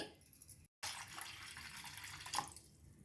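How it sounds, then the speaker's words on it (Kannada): Water poured into a pot for making tea, a short splashing pour broken by a brief gap, then a louder gush and a few drips trailing off; quiet and close, with no talking. "ಪಾತ್ರೆ ತಗೊಂಡು ಅದಕ್ಕೆ 2 ಕಪ್ಪಷ್ಟು ನೀರು ಹಾಕಿ"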